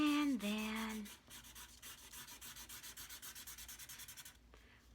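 A pen draws hair on paper with a quick run of rhythmic scratchy strokes, close and fairly soft. A brief tonal sound comes just before the strokes.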